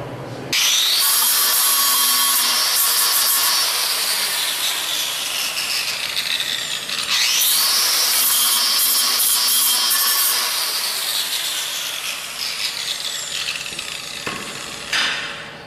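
A stuck welding rod is cut out of a weld seam with a loud, harsh, high-pitched grinding screech. It runs almost continuously, dips briefly near the middle, then eases off before a final short burst.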